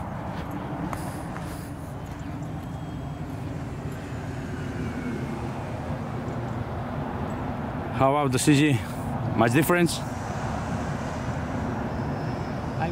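A model Vulcan jet aircraft in flight drones faintly and steadily in the distance, under outdoor talk, with a brief louder whooshing pass around the middle.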